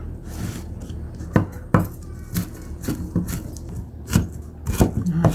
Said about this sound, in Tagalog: ang gagawin natin ay tatadta rin natin to para ihalo dun sa patuka natin mamayang hapon.